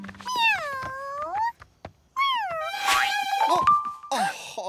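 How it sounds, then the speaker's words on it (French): Cartoon cat meows from an animated Halloween children's series, several drawn-out wavering cries with gaps between them, loud and close, interleaved with other voices and effects. "Oh, quel joli petit chat."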